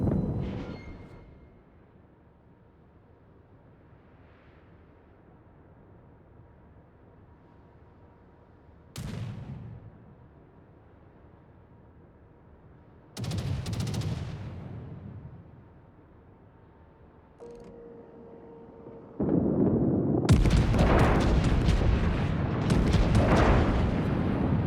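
Heavy naval guns boom in a battleship video game, several separate deep blasts spaced seconds apart, with a loud sustained barrage of firing and explosions near the end.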